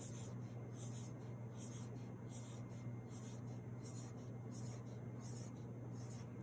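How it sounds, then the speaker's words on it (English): A pen drawing circles on paper, a steady soft scratching rub that runs continuously and evenly throughout, close and quiet over a constant low hum. "So let's draw 10 circles."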